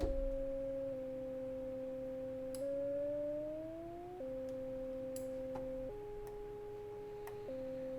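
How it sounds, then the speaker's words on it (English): A steady Arturia Prophet V square-wave synthesizer tone plays alone, holding two notes together, with the pitch sliding slowly upward in one stretch and stepping between levels under poly modulation, plus faint clicks. "switch to a square wave instead so that we can really hear the difference between the two notes"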